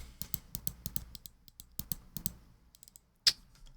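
Sharp, rapid clicks from a Finalmouse gaming mouse with a crisp, clicky switch, fired in quick irregular bursts, close and dry with short pauses and one louder click near the end.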